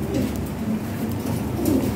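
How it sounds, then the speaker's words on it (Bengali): European Lahori pigeons cooing close by in a loft where pairs are breeding, a continuous low, throaty rolling coo layered from several birds with no pauses and no speech. "অনেক কবুতর আছে"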